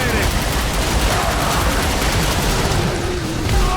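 Detonated charges burst in The Bureau: XCOM Declassified amid a dense, loud wall of combat noise, rapid gunfire-like crackling and rumbling blasts running throughout.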